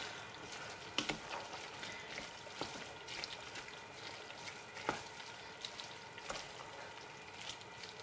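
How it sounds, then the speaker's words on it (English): Pork chili cooking in a pan on a stove gives off a faint, steady sizzle, with scattered scrapes and taps as it is stirred. "So you just stir them all up like that, and you can actually see the chili coming up."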